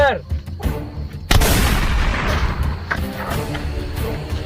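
A single loud gunshot booms close by and echoes, leaving a rumbling tail, after some brief muffled sounds before it.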